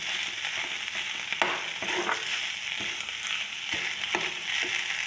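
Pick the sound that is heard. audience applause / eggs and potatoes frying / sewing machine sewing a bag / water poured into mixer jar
eggs and potatoes frying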